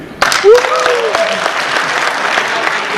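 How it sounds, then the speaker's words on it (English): Loud, dense audience applause at PAX East 2011 breaks out suddenly and carries on steadily, with a rising whistle cutting through near the start. "Give me a round of applause if you're excited for Duke Nukem."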